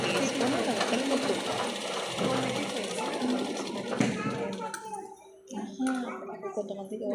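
A sewing machine stitches a dress, its rapid mechanical chatter running steadily beneath a woman's speech, then pausing briefly before starting again near the end.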